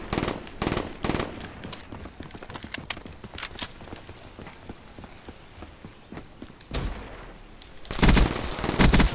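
Gunfire in a Call of Duty Black Ops 3 Gun Game match: rapid tapped shots crack close and loud in uneven bursts, with a dense, heavier volley near the end.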